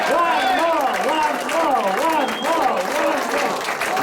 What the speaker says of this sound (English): Let's get some exercise and clap.